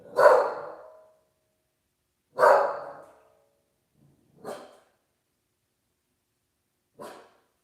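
A dog barks indoors at people walking past the house, four separate sharp barks spaced a couple of seconds apart, the first two loudest and the last two fainter, with silence between and no talking.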